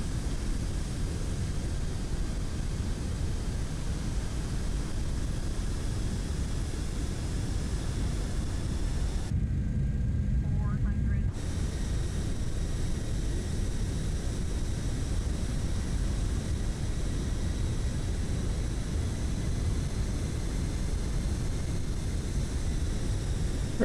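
Steady broadband roar of an aircraft on a runway in the FS2024 flight simulator during extreme crosswinds, continuous and loud, with a brief drop in the higher hiss partway through.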